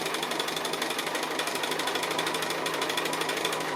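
A sewing machine stitches free-motion around a spider appliqué, a steady fast mechanical chatter with a fine even rhythm that runs close and unbroken throughout.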